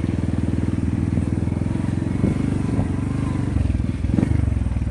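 A motorcycle riding through deep water on a rough trip, its engine putting out a close, steady pulsing putter with faint scrapes and clatter, no talk over it.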